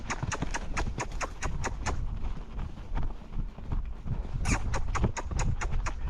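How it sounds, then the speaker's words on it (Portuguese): A filly's hooves beat rhythmically at close range as she trots and gallops, the clip-clop quickening and thudding unevenly, with some faint background noise. "Aí eu paro de apertar, permito que ela volte ao trote."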